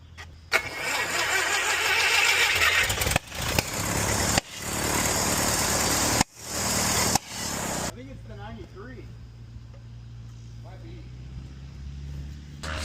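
A 1950s Piper TriPacer aircraft engine is cranked repeatedly, the loud starter grinding in several bursts that stop abruptly, before it goes quieter as people talk over a low hum.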